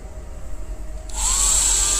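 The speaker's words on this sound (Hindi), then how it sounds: "फिर हम इसको ड्रिल करेंगे ताकि ट्रिपल रिमर यहाँ तक ड्रिल हो जाए" A surgical drill bores into bone for a dynamic hip screw, starting after a second of quiet room hum as a sudden high-pitched whine that holds steady and loud to the end.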